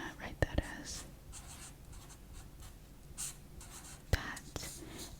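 Pen strokes across paper while an integration-by-parts problem is written out by hand, soft scratching with a few sharper taps, close and quiet, under a low whispered voice.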